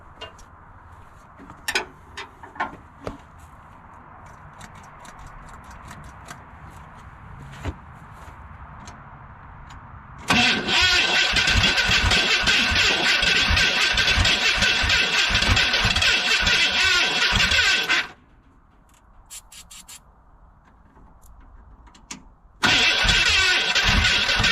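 A Ford F150 pickup that sat for 15 years, with a choke that won't close, fires up after light footsteps and clicks. It roars loudly for about eight seconds, cuts out, then restarts and runs again close by.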